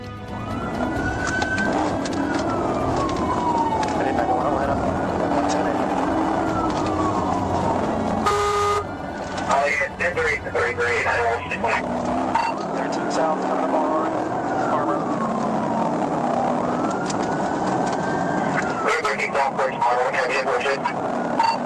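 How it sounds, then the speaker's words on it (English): A wailing police car siren rises and falls during a chase through busy lanes of loud traffic and engine noise, with a brief burst of radio chatter in the middle. "The officer activated the siren"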